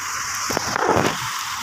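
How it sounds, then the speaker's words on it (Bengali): Rain pours onto a tin roof as a steady, dense hiss that stays even for a moment, heard close and fairly loud with no voices. "এই সাইডটায় দাঁড়াইলে যে টিনের উপর যে বৃষ্টির ঝিমঝিম শব্দটা, এটা অনুভব করা যায়।"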